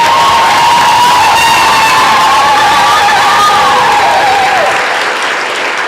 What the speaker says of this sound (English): please give Mississippi for a Just World a round of applause